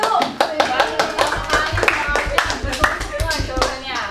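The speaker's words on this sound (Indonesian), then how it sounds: "tepuk tangan dulu" A classroom of pupils clapping together during a teaching session, with sharp, close claps in a loose rhythmic pattern, some voices talking and calling out over the clapping.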